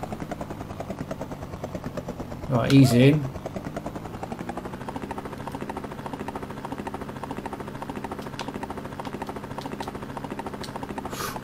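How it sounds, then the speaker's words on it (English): Helicopter rotor chops in a fast, steady pulse throughout in the Amiga video game Rescue, with a short voice speaking over it early on. "Land the helicopter there."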